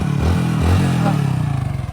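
A motorcycle engine runs during a riding lesson, a steady close hum with a slight rise and fall in pitch as the throttle is worked, without talking.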